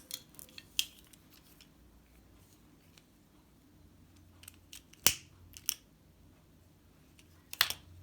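Scissors snip crochet thread with a few sharp, close clicks spread out in otherwise quiet surroundings, with light handling taps between cuts.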